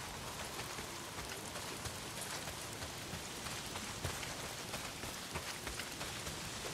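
Heavy rain pours in the Days Gone video game, a dense, even hiss with scattered louder drops pattering on surfaces throughout.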